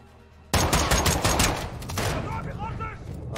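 Shotgun fire in the video game Modern Warfare 2: a sudden loud blast bursts in after a quiet moment, followed by ringing echoes and further gunfire, with voices talking beneath the combat noise.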